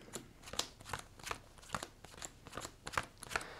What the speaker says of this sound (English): So they get quite the amount of shuffling action here.